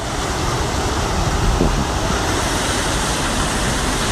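Floodwater surges through a Jeddah street during heavy rain, making a loud, continuous rushing roar with no pauses, close to the listener.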